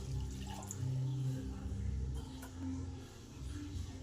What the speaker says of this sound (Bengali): এবার মিক্সিটা ধুয়ে কিছুটা জল দিয়ে দিই